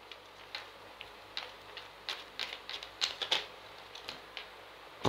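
Tarot oracle cards being shuffled and drawn, a run of light close ticks, flicks and snaps that grow sharper toward the end, with no voices.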